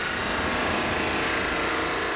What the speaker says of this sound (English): To get that material down to the right thickness, I'm using this sanding machine.